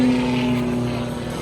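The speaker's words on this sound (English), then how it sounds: "He's diving. Right down to the runway." A stunt plane diving toward the runway at the MCAS Cherry Point air show, a steady droning engine tone with a faint fading rush, distant and continuous.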